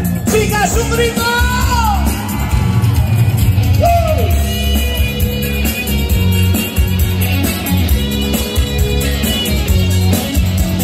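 A concert crowd of girls screams and yells in loud, sustained bursts over the live music of a reunion show.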